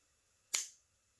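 A single sharp snap as the trigger of a Sig P320 X-Carry CO2 BB pistol is pressed and the hammer falls. It is one crisp, close click with a brief decay and a faint tick afterward.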